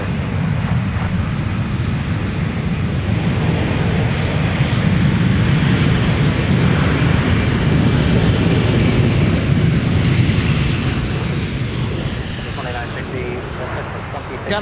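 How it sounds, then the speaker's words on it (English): Delta Air Lines Airbus A319 departing Minneapolis–Saint Paul airport toward the north, a loud, steady broadband engine roar sustained throughout and easing slightly near the end. "got a brief glimpse of the departure of Delta 1471 to the north side, headed to Chicago O'Hare"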